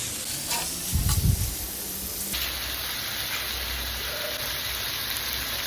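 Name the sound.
stirring aloo gobi masala frying in a pan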